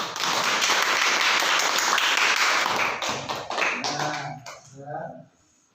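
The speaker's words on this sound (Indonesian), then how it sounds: "tepuk tangan." A classroom of students clapping hands at the end of a religious-studies lesson, steady dense clapping that thins into scattered claps and fades out near the end.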